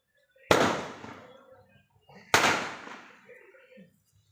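Two loud firework blasts from a triple shot firecracker set off during Diwali celebrations, each a sharp bang followed by a crackling, decaying tail, roughly two seconds apart and close by.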